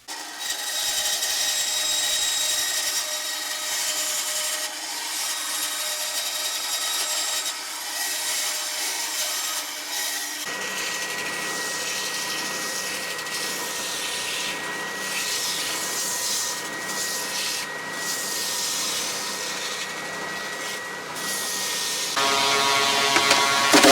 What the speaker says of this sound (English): cut it roughly to size and put it on the router table